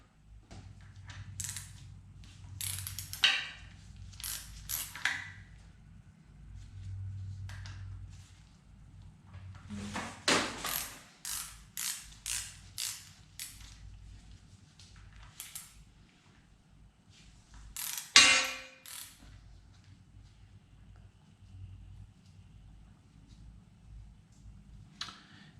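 A ratchet and wrench work bolts loose from the rear axle seal plate of a P3, giving bursts of rapid clicking ratchet strokes, metallic clunks and scrapes spread across the clip, close and moderately loud, with no talking.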